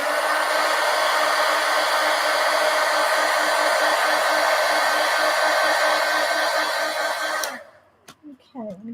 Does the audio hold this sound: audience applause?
no